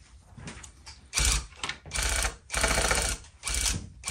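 A rug tufting gun running in bursts during a tufting class, its loud buzzing mechanical rattle starting and stopping several times in quick succession with brief quieter gaps between.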